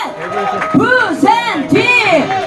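A crowd at an outdoor rally cheers for a group from Busan, loud whooping and shouted voices rising in bursts close by, with clapping mixed into the cheering.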